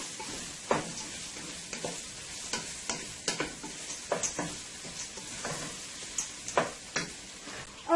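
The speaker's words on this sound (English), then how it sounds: "And that is frying up nicely there." Liver and gizzard fry in a pan for a spicy dhal and rice meal, a steady close sizzle with irregular ticks and stirring scrapes popping through, no voices.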